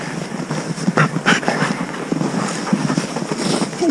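A dog barks a few times amid outdoor clatter and movement noise during a trip, fairly close, with no talking.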